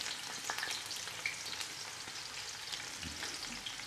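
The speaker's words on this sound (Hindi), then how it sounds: "1 कप मैंने इसमें डाला है ऑयल। 1 किलो चावल है मेरे पास, तो इसमें मैं डालूँगा एक दरमियाने साइज़ का प्याज।" Onion frying in a cup of oil for peas pulao, a steady close sizzle with occasional stirring scrapes, no talk.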